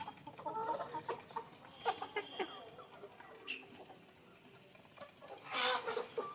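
Desi Kaveri roosters and hens cluck in a village poultry yard, scattered short calls and one louder crow-like burst near the end, moderately close over faint background noise.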